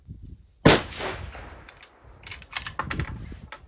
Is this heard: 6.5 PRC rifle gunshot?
yes